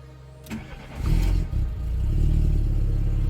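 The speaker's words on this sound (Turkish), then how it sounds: "Arabamız çalıştı." VW Polo engine cranks briefly with a starter whir, catches and revs up, then settles into a steady, close idle rumble; no talking.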